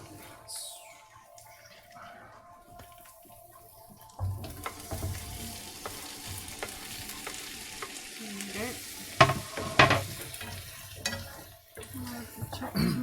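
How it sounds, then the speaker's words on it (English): Tomatoes go into a hot pan of paneer tikka masala, setting off a close, steady sizzle with scraping stir sounds and a few sharp louder bursts midway, under a quiet kitchen background. "I'm going to add the tomatoes now."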